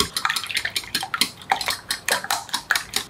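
Rapid metal-on-bowl clinks of eggs being beaten with a whisk or fork for a rolled omelette, a steady fast rhythm of bright taps, close and fairly loud, with no voices.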